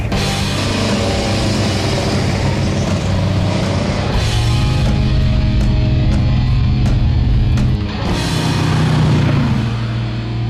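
A 1968 Pontiac GTO accelerates hard, its engine note climbing under heavy, steady road and wind roar heard from inside the car, loud and continuous with a brief dip before surging again.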